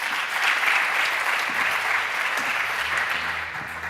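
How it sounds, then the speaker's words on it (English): Applause fills a plenary hall at a European big data forum in Valencia, a dense, steady wash of many hands clapping, loud and sustained with no voices over it. "Big applause."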